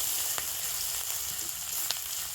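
Whole cumin seeds and grated ginger sizzle in hot oil, giving a continuous close crackling hiss with a few sharper pops.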